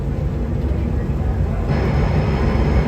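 Diesel locomotives of 3,000 horsepower idling at a busy station, a steady low engine rumble and hum filling the whole stretch, loud and continuous with no clear speech.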